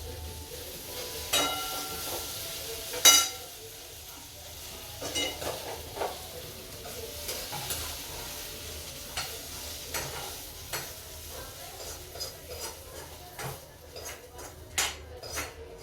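Onion and tomato sautéing in a pan, a low steady sizzle broken by frequent spoon scrapes and clinks against the pan, close and fairly quiet.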